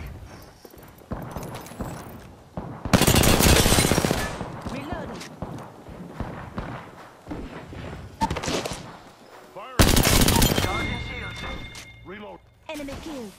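Automatic gunfire in the video game Apex Legends, two loud close bursts of rapid shots separated by quieter shooting, footsteps and game effects, with players talking over much of it.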